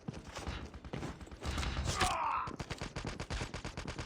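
A gun fires in Call of Duty: Mobile in rapid, sustained bursts of sharp automatic shots with mechanical clicks, near and fairly loud, broken by a short pause.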